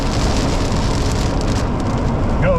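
Heavy storm rain pours down steadily in Tekamah, Nebraska, a loud, dense hiss of drops drumming on surfaces throughout, close and unbroken, with no voices.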